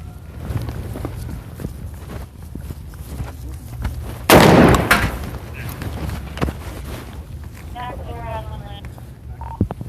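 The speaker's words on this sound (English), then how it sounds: "Shots fired, one down." A single loud, sharp gunshot fired by police during an officer-involved shooting in Jennings, Missouri, bursting out midway through a stretch of background noise and voices.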